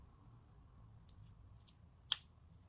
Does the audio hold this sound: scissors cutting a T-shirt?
yes